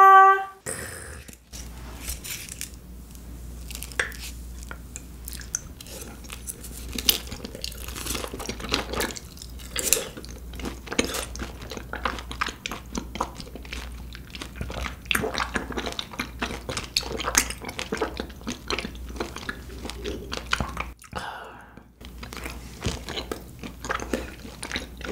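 Beef intestines with green onion kimchi being chewed right at the mic, moist squelching and soft crunches repeating steadily for the whole stretch, quiet and intimate.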